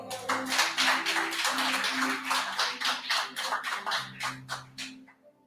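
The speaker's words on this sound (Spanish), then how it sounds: "denle un aplauso a Dios" A church congregation applauds, dense clapping spread across the room and rising over a low sustained organ or keyboard tone, keeping up steadily before thinning near the end.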